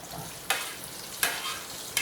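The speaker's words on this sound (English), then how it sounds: "So what we're gonna do is we're gonna add some chopped onions." Chopped onions frying in spicy garlic oil for Korean kkanpungi, a steady close sizzle punctuated by three evenly spaced sharp stirring scrapes about every three-quarters of a second, no voices.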